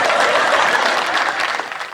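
Audience applause at a Hindi poetry gathering, a dense loud wash of many hands clapping close by, sustained without a break for two seconds.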